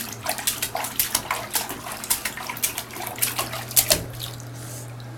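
A child splashes water in a bathtub, making a quick series of sharp slaps and sloshes, close and lively, over a steady low hum and no talking.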